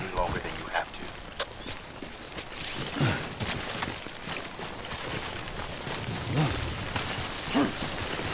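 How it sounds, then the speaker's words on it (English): Timefall rain in the Death Stranding video game falls steadily as a dense hiss with scattered drops and splashes, while a voice talks over it throughout. "Don't stay out in the rain any longer than you have to."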